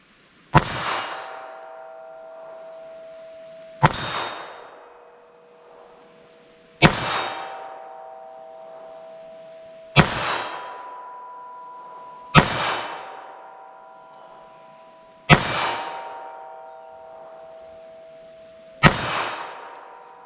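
Seven sharp .22 LR pocket pistol gunshots fire at spaced intervals, each cracking loudly, followed by a metallic ring from a struck target.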